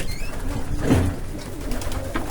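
Pigeons cooing, one low throaty coo rising out of faint background noise near the middle of the clip.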